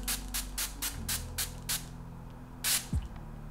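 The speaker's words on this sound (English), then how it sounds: "I'm just gonna move my head back and just spray it." Rapid bursts of fine facial toner mist spray hiss close by, about seven quick pumps in a row, then a pause and two more sprays.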